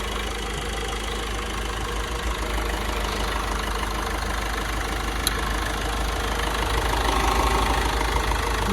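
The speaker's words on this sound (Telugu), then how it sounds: "ఇంజన్ కూడా చూపిస్తాను. సింగిల్ సెల్ఫ్ అయితే స్టార్ట్ అవుతుంది ఇంజన్." A 2016 Ford EcoSport Titanium with about 70,000 km idles steadily and smoothly, a close, constant engine hum with no talk over it.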